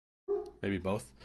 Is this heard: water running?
no